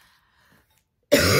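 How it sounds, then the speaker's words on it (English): A single harsh cough from someone with bronchitis bursts out loud and close after near silence, filling the end of the clip. "as you can hear, my little naggy cough thing that I've been dealing with this week is actually full bronchitis"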